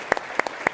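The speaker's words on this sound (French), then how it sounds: "Moi, je pense qu'on vous donne une grande main d'applaudissement" A Montreal audience claps for two mayors: a brief burst of close, distinct hand claps arriving in a quick, regular rhythm.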